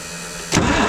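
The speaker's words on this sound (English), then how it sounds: "Go ahead and crank it." A used semi truck's diesel engine cranks after a low background hum, the starter and engine noise jumping in loud and steady halfway through and holding to the end, with no talk.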